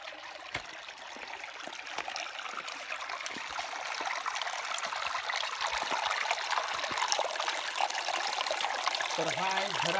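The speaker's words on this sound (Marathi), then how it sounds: "तर हा आहे झरा आणि झऱ्याचा आवाज." A small natural spring trickles steadily into a rock pool amid greenery, a continuous close, bright watery babble with no talk over it.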